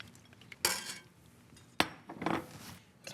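A warm egg yolk mixture being stirred into a pot of beef and veal stew: two distinct clanks of a utensil against the pot, each followed by brief scraping, with quiet gaps between.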